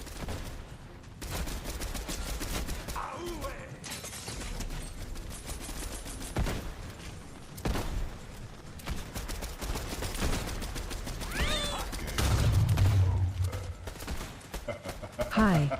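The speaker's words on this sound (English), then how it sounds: "Get headshots with the rifle" Rifle fire in a console shooter game, with repeated sharp shots and bursts over continuous game noise while a person talks over it.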